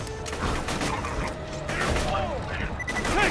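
Turret gunfire in the video game Borderlands 2 as it mows down robot mechs, a rapid, dense fusillade of shots with mechanical whirs and pings, under a speaking voice.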